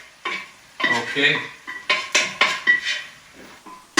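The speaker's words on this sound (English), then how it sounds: "Now we're going to transfer the Malloreddus pasta into the pan there." Malloreddus pasta is tipped and stirred into a sizzling sausage pan, with repeated clattering scrapes and metallic knocks of utensils against the pan, close by, and a brief spoken word.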